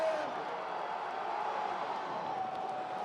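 Strongman contest crowd at the Arnold Strongman Classic urging on a lifter during a log press attempt, a sustained wash of cheering and shouting voices, steady and fairly loud throughout.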